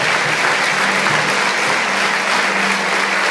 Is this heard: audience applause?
yes